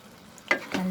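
Soya keema being stirred in a pan after garam masala powder is added, two short scraping stirs in the second half over a faint low sizzle, close by with no talk.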